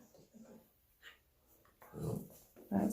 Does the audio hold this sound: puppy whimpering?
yes